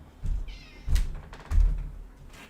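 A cat meows a few times in a drawn-out, wavering cry, mixed with dull thumps and knocks close by in a quiet room.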